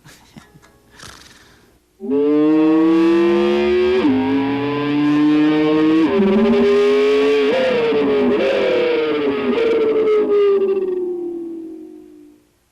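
Electric guitar imitates a Ferrari downshifting after third gear, a loud sustained distorted tone that climbs in pitch, then drops in several abrupt steps like gear changes, sliding upward between each, near and alone after a brief quiet start.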